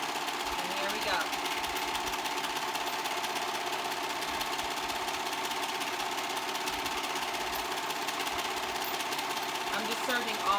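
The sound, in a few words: serger overlock machine sewing seam around tee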